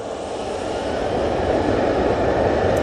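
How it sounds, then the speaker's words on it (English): A Ryanair Boeing 737-800 departs from runway 23 left at Manchester Airport, a broad, steady jet roar that swells slightly as it goes, heard at a moderate distance with no talk. "Ryanair 737-800. Now sending it down at 23 left."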